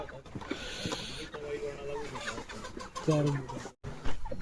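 About three hundred chickens of around three kilos each cluck close by as they are loaded into crates on a vehicle in cold weather, while people talk, with a louder burst of clucking near the end.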